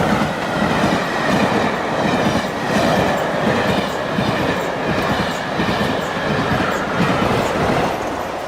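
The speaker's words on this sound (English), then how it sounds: "Dale has sent in a proper steam engine." A full-size steam locomotive train rolls steadily past at close range, its wheels clacking rhythmically over the rail joints beneath a constant loud rumble, with faint squeals above and no voices.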